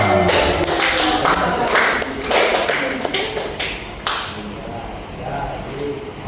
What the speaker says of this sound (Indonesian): Tepuk tangan buat Bu Nadia.